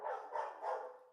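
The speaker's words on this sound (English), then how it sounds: "You can probably hear my dogs" A few quick dog barks ring out close together in a short burst, somewhat muffled, as if from the dogs in a nearby room of a home.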